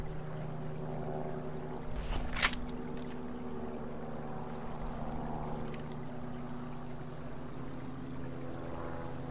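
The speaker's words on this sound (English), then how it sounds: "I hear an airplane." A propeller airplane flies overhead in the survival video game Subsistence, a faint, steady low engine drone that holds throughout, with a brief airy burst around the middle.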